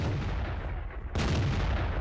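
A Crusader SP self-propelled artillery gun fires in World of Tanks: one sharp, loud boom breaks out suddenly midway through, following a stretch of muffled battlefield rumble, with no voices.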